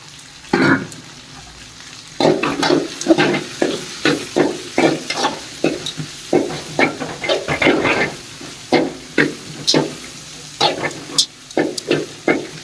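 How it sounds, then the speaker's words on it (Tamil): Onions sautéing in a pan for masala sevai, a run of close, repeated stirring scrapes with a steady sizzle beneath, the strokes coming in a quick, regular rhythm. "வெங்காயம் நல்லா பொன்னிறமா வதங்கினதுக்கு அப்புறமா மஞ்சத்தூள் சேர்த்திக்கிட்டா போதும்"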